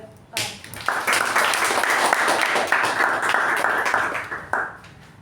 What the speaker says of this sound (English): Let's have a huge round of applause for